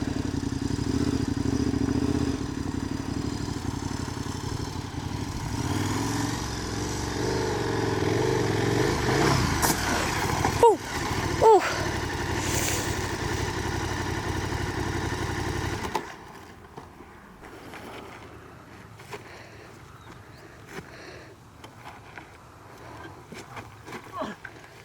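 KTM 1290 Super Adventure R motorcycle ridden fast on a slippery dirt trail, engine droning loudly and steadily with clattering and rough bumps for about sixteen seconds, then falling much quieter.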